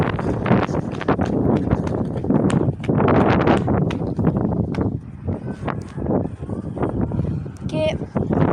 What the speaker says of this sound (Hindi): ये देखें इतनी ज़्यादा हवा चल रही है